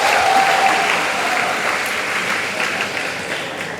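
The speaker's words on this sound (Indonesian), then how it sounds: "Tepuk tangan untuk Bupati." Audience applause for the regent at a ministerial visit to a madrasah school in Jepara, a steady broad clapping from a crowd that carries on throughout and fades slightly toward the end.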